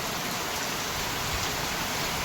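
Rain falls steadily over a village farm, an even dense hiss with no breaks or voices for the whole short stretch.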